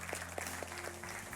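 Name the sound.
applause in a church service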